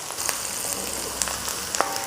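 Garlic sizzling in hot oil with onion as a Filipino beef dish is cooked, a soft steady frying hiss with a few sharper crackles and pops, close and fairly quiet.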